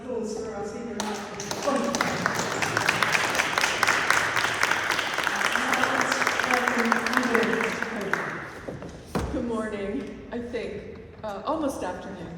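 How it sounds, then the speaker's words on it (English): Audience applause for a speaker at a King's College London session, a loud sustained burst of clapping for several seconds, with speech before and after. "I think a further round of applause for our speaker."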